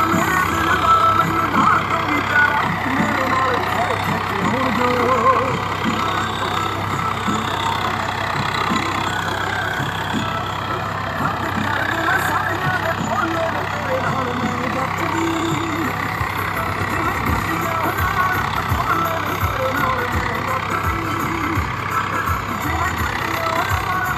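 Swaraj 855 FE 55 hp tractor with a fiber hood, working with a super seeder, its diesel engine running with a steady, loud, continuous drone, voices faintly audible underneath.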